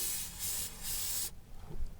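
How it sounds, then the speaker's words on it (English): Aerosol spray hissing out in a few quick bursts onto spilled brake fluid on a 1986 Vauxhall Cavalier, the last burst longer, then a short quiet stretch with faint handling noise. "give it a spray down,"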